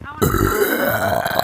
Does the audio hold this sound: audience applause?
no